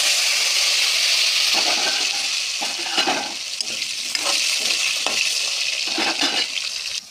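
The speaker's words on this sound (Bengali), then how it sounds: "এখানে গুল গুল করে পিস করেছি আলু, এখন হালকা করে আলু ভেজে নেব।" Chunky potato pieces frying in hot oil after fish heads, a loud, steady sizzle with bursts of crackle and occasional scraping stirs throughout, close and continuous with no talk.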